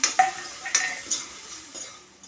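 Green chillies and garlic sauté in oil in a pan for a home-style vegetable dish, with a few sharp spoon clinks and scrapes against the pan over a soft sizzle, close and brief.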